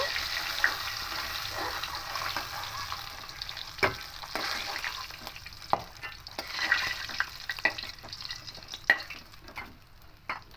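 Fish frying in oil is turned over and over in the pan, giving a quiet, steady sizzle broken by sharp clinks and scrapes of the spatula.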